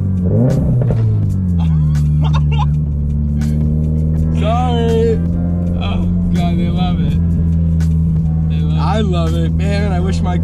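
A modified Toyota GR86 rumbles close by while driving, its exhaust throbbing and revving with occasional crackles, under steady talk from people inside the car.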